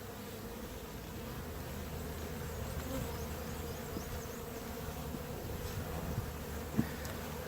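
A honeybee colony buzzes in a soft, steady hum during a hive inspection, with no talking.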